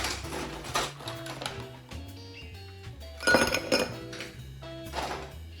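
Ice cubes clink and knock into a cocktail glass in a quiet series of bright, separate taps and rattles, with a denser cluster of clinks midway through.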